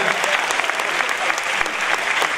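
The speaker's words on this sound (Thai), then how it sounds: "ขอเสียงปรบมือให้ Signature Trust" Sustained applause from an audience at the opening of an esports event, greeting an esports team; dense steady clapping with no one speaking over it.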